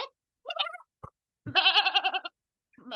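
A person imitating a goat with a wavering, nasal bleat in a quiet interview, set among short voiced bursts, the drawn-out quavering call loud and close near the middle.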